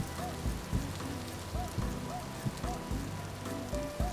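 Steady rain pattering in a survival video game wilderness, falling on a campsite with rice set out, a constant hiss with scattered drop taps and brief game chimes, while a person talks over it.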